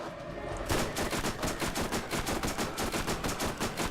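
Rapid automatic gunfire rings out in Borderlands as shots pound a boss's eye, starting after a brief lull and continuing as a steady, loud, evenly spaced stream of bursts.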